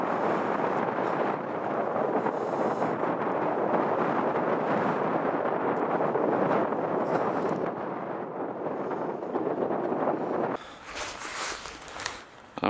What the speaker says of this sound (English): that wind is biting, man